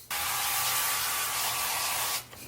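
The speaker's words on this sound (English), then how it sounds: "I'm gonna take some of this avocado oil spray." Avocado oil spraying from an aerosol can in a kitchen, one steady continuous hiss of about two seconds that cuts off cleanly, loud and close, with no talk over it.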